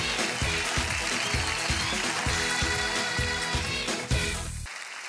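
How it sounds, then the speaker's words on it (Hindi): Studio audience applause on an Indian television singing contest, a loud, dense wash of clapping that runs steadily for several seconds before cutting off abruptly near the end. "जोरदार तालियां हो जाए तो आस्था दास."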